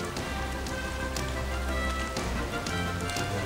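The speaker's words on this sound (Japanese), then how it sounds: "外は雨が降っていた。" Rain falls outside on the morning of a Japanese karate team's training camp, a steady patter on surfaces that runs throughout, blended with a tonal background sound.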